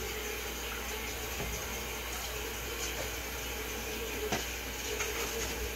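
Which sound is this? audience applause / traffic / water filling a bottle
water filling a bottle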